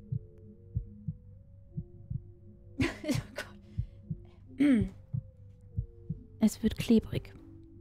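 Steady heartbeat thumps inside the surgery video game Surgeon Simulator 2013, a slow regular low pulse throughout, with someone talking and exclaiming in bursts over it.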